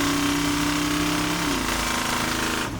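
An old 401 cubic inch V8 car engine runs loud and close with a steady, rough droning rumble that shifts slightly in pitch partway through, with no talk over it.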